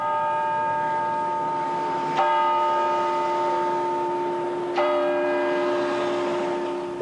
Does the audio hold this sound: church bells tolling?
yes